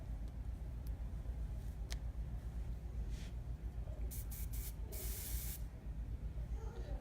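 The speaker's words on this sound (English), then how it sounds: "I don't want to spray it too much" Several short bursts of aerosol hair spray hiss, then one longer spray, over a quiet background hum.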